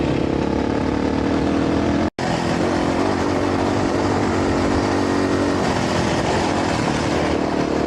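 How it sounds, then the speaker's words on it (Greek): Motorcycle riding fast on an easy dirt road, its engine droning steadily under heavy wind and road rumble, with a brief dropout near the start. "Μεγάλη απόλαυση πάντως στο ξεφόρτο το μηχανάκι."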